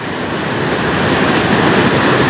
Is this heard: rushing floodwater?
yes